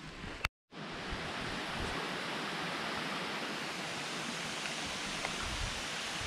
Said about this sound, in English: I showed you the waterfall.